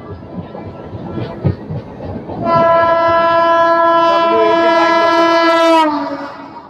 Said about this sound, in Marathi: WAG9 locomotive of freight train.